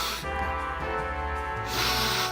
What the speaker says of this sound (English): Just try the spray.